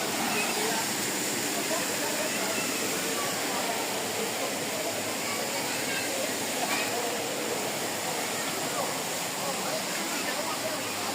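A waterfall pouring steadily, a dense, continuous rushing roar heard close and loud without break for the whole duration.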